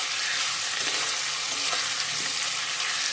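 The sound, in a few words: frying potatoes with spices in a pan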